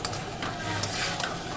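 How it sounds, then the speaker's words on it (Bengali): Boiled potatoes stirred into a frying spice paste for potol chingri, a faint, even sizzle with soft stirring scrapes throughout and nobody speaking. "এরপর মশলার সঙ্গে আলুটাকে ভালো করে মিশিয়ে নেব"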